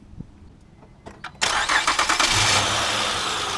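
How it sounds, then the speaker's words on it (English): A 2008 Honda Odyssey minivan engine, with the serpentine belt removed, cranks with a few short whirs, then catches and runs loudly with a rough, slightly pulsing idle. It is close by, with no talking. "I'm going to crank that to see if the noise is coming up again."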